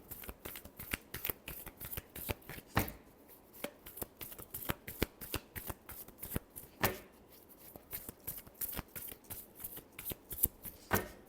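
Tarot cards are shuffled by hand in a steady run of crisp, rapid riffling flicks, close and fairly quiet, with brief pauses between passes and no talking.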